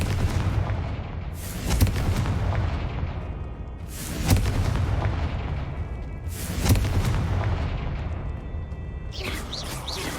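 Confringo explosive spell cast repeatedly in the video game Hogwarts Legacy, three loud booming blasts spaced a couple of seconds apart over a dense, continuous game soundscape.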